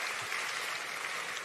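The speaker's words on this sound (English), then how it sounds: "let's give those from various countries on our continent who are here a round of applause" An audience claps steadily at a gala dinner, a dense, even wash of applause with no voices standing out, heard at a moderate distance.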